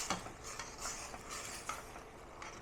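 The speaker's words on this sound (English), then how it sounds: "You can hear it sizzle as it touches the side of the pan." Soft, steady sizzling and crackling of bolognese sauce in a pan, with faint scraping as if stirred, fairly quiet and close.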